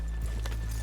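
Horse hooves clip-clopping in a Red Dead Redemption II town street, a short soft run of steady footfalls over a constant low hum, with no talking.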